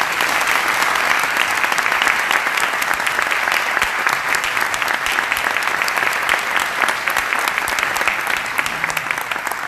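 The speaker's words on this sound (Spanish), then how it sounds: "demos un fuerte aplauso al doctor Blas Bonvil" An audience at a conference gives sustained applause welcoming a doctor to the stage, a dense, even clapping that holds steady for the full span.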